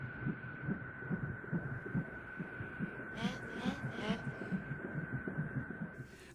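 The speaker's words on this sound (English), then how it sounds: "You could program the synthesizer to make a thumping sound, and then you could tap a key and make what sounds like a heartbeat." Synthesized heartbeat sound effect, a thumping tone tapped out on a synthesizer key, pulses in a steady repeating rhythm over a sustained hum, with a brief breathy noise layered in midway.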